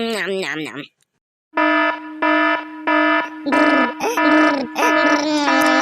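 A loud electronic alarm beeps in repeated bursts, one short tone then a brief silence, then steady pulsing buzzes with a second warbling tone layered in.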